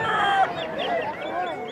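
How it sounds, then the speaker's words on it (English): Several roosters crow and cluck at an outdoor rooster crowing contest during a small-town centennial festival, with overlapping calls from nearby birds mixed with faint crowd murmur. "whichever bird crows the most number of times in 30 minutes wins."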